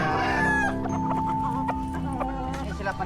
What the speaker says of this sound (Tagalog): Ito na yung pagkain natin sa mga manok natin naglulugon.